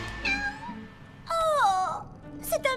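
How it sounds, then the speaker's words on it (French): A cute cartoon kitten mewing in a few high, wavering meows, close and clear, with a short voiced squeak near the end. "Oh, c'est un mignon petit chaton."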